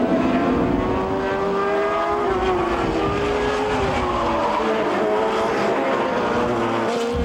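Midget race cars circle a track in 1988, several small engines droning and whining together, pitch rising and falling as they pass at a middle distance with no voices.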